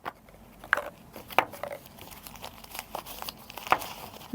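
Oiled paper wrapping crinkled and rustled around injector valve assembly parts, with soft irregular crackles and a few sharper crisp rustles spread over several seconds, close and fairly quiet.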